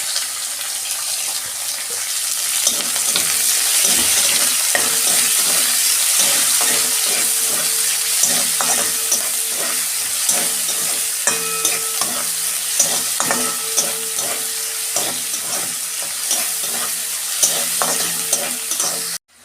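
Onions sizzle in a hot pan with continuous crackling hiss, broken by repeated scraping and stirring clatter close by.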